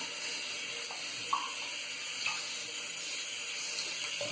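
Water running from a bathroom tap into a sink to top up shaving water, a steady close hiss with a few brief clinks, no voices.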